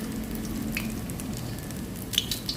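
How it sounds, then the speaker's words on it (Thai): Steady, soft sizzling of an egg frying in a non-stick pan, with faint crackles and a few small pops near the end. "เดี๋ยวจะทอดไปนะคะจนกว่าเขาจะกรอบเลยนะคะ"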